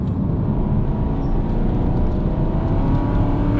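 An Aston Martin being driven on a four-mile road test over bumpy, undulating roads gives a steady, loud engine and road rumble from inside the car, continuous with no voices.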